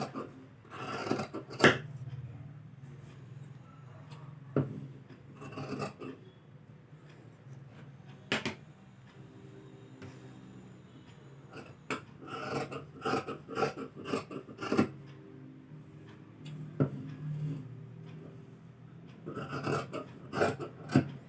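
Scissors snip through blouse sleeve fabric in short bursts of close rasping cuts, separated by pauses and soft handling rubs.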